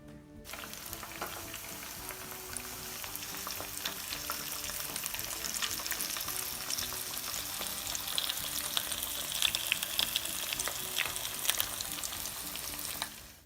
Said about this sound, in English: we're going to fry the fish now